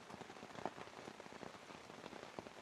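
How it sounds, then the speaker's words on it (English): Rain falls steadily near Lake Superior, a dense patter of drops striking a surface at close range, soft and continuous with no voices. "I will enjoy the sound of the rain as I go to sleep tonight"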